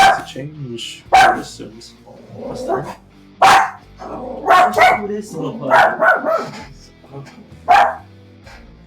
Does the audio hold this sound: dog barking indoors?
yes